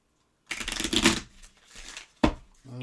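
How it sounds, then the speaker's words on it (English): A deck of cards is shuffled up close: a dense riffling burst, then a quieter pause and a second sharp flutter of cards, with no talk. "Shuffle these cards up."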